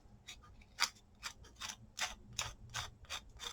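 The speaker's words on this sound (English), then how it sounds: "Now I'm going to use my sandpaper, and I'm just going to go over it lightly" Sandpaper is rubbed lightly over a painted faux metal craft tag, making a series of quick, soft scratchy strokes in an uneven rhythm, close and quiet.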